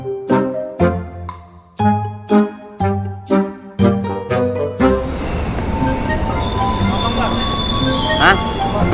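A train at Cikarang station, opening with a series of loud, evenly spaced musical station chimes, then giving way to a rumbling, squealing train noise with a bright whine.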